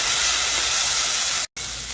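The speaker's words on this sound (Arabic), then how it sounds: "هنا طبعا سخنت الزيت وراح أضيف البصل" Onions and mixed red, green and yellow bell peppers frying in hot oil, a loud, continuous close sizzle with a very brief break before it resumes.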